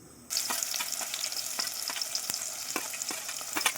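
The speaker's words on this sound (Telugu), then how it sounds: "నూనె వేడెక్కాక ఉల్లిపాయలు, మిరపకాయలు వేసుకుని వేసుకోవాలి" Onions and chillies hit hot oil in a pan and burst into a loud, steady sizzle, frying close by with scattered crackles and stirring scrapes.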